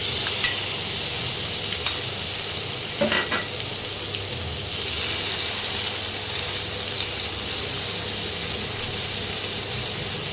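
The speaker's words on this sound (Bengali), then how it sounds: "তেলটা গরম হয়ে গেছে, এবারে মাছটা আমি ভেজে নিচ্ছি।" Prawns fry in hot oil for a dish of kohlrabi with prawns, giving a steady, close sizzle throughout with a few brief clinks and stirring scrapes. The crackle brightens and swells about halfway through.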